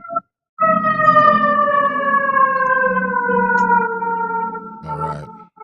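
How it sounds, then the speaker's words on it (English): A siren passes, loud and steady at first with its wailing tone sliding slowly downward in pitch, then fading away over several seconds before a brief different noise at the end. "I'll wait for the siren."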